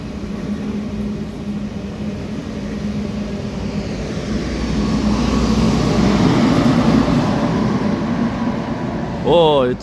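A French regional train passes at slowed speed, a low rumbling roar that swells near the middle of the clip and stays steady, with a rising whine at the end.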